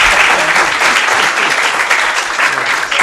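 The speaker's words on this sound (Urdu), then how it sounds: "اب تالیاں انذار حسین صاحب کے لیے۔" Loud, dense applause from a literary festival audience at a poetry session, honoring a poet, sustained and even throughout with no pauses.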